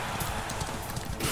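Rapid rhythmic hoofbeats in a Dragon Quest video game race pound over a dense wash of noise, like a horse galloping at speed, steady and loud throughout.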